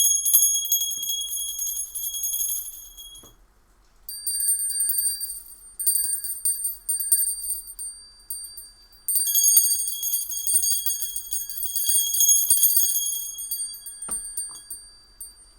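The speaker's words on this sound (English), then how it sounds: "Let's have a few bells." Bright, high bells or chimes ring in bursts of shimmering, sustained tones for about fifteen seconds. They pause briefly between phrases and play alone, with no talking.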